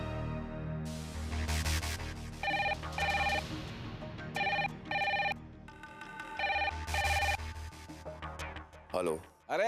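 Repeated electronic ringback tone of a mobile phone call being placed, several evenly spaced ring bursts over a musical television drama score, fairly loud and clear.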